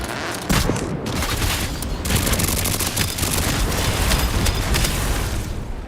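A turret in a video game fires continuously, a loud, dense barrage of rapid booming shots and blasts that keeps going without pause and without talk.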